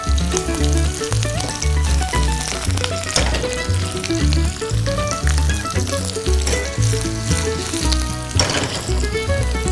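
Curry leaves crackle and sizzle in hot oil with garlic for a spicy Gobi 65 roll, a loud continuous fry heard over steady background music, with no talking.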